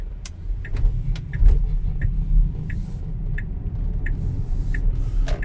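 Tesla Model X driving on the road with Autopilot available: a steady low road rumble and tire noise inside the cabin, joined by faint regular ticking, with no talk.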